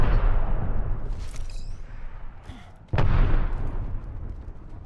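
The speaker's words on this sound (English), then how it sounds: "They're shooting at me." In the video game Apex Legends, weapon fire cracks and booms in a loud, rumbling burst, dips briefly, then one sharp shot sets off another heavy volley.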